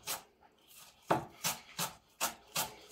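Chives being finely chopped with a knife on a cutting board, a series of about six crisp, close blade strikes at an irregular, unhurried rhythm, with no talking.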